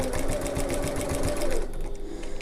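A sewing machine hums steadily and close up, stitching a sling bag in one continuous run.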